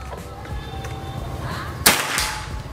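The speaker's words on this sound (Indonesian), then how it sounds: "Kita lanjut lagi ke tembakan yang kelima ini." A single sharp crack from an FX Crown PCP airgun cuts through low background noise near the end, followed by a short fading tail.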